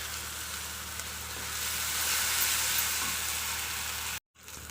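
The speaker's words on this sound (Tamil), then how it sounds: "இஞ்சி பூண்டு பேஸ்ட்டு போட்டு நல்லா நம்ம வதக்கியாச்சு." Ginger garlic paste sautéing in oil for Chettinad chicken kulambu gives a steady, close sizzle for about four seconds, swelling slightly midway, then cuts to silence near the end with a faint return.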